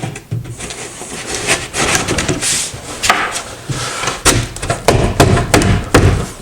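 Wooden cabinet drawer parts on a ready-to-assemble corner cabinet being pushed together along dovetail joints, giving close, irregular rubbing scrapes and dull wooden thumps and knocks in uneven bursts.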